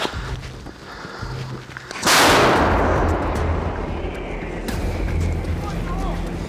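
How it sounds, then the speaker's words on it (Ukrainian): A new artillery gun firing in the field: one loud, sharp blast partway through, followed by a long rumbling roar and echo, with a voice shouting just before the shot. "Гармата!"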